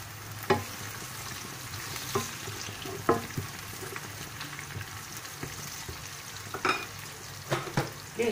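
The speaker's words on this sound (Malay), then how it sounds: "Goreng bawang sehingga garing." Onions fry in hot oil until crispy, sizzling steadily up close, with occasional louder scraping taps as they are stirred in the pan.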